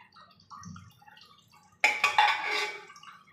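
Cooking oil poured into a pan for a vegetable tempering in a home kitchen, heard as a sudden loud splashing, sizzling rush that starts partway through after quiet clinking and lasts to the end.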